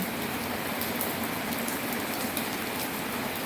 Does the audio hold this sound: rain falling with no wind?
yes